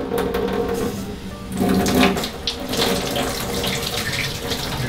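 Tap water runs steadily into a sink while a paintbrush is rinsed clean of paint, a continuous close splashing rush with a brief louder surge partway through.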